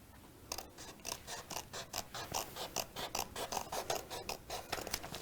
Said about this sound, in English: So I'm just going to cut a straight line at the top of my booklet.